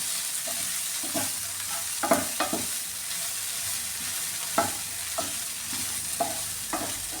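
Carrot and green bean mezhukkupuratti stir-frying in a pan makes a constant close sizzle. Several sharp scrapes and clinks of a spoon against the pan are spread unevenly across the stretch.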